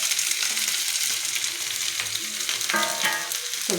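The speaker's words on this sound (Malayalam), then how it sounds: "കടുകിട്ടു, പട്ട, ഗ്രാമ്പു ഇത്രയിട്ട് നമുക്ക് ഉള്ളിയിട്ട് വഴറ്റാം" Onions, shallots and garlic sautéing with mustard seeds, cinnamon and cloves in a pan, giving a steady, close sizzle with faint scraping stirs throughout and no voices.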